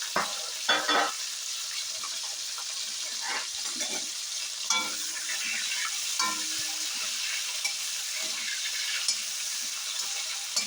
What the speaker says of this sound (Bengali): প্রথমে আমি চিংড়ি মাছটা ভেজে নেব।